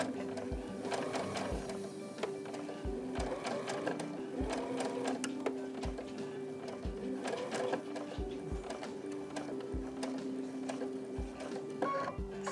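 A sewing machine stitches quilt pieces in a steady, fast mechanical chatter that runs without a break, with soft rhythmic thumps of the needle throughout and no one talking.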